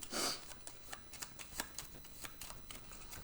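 Board game cards from a Sierra West unboxing are riffled and handled up close, a quick burst of flicking followed by a run of soft papery taps and slides, faint and with no talk.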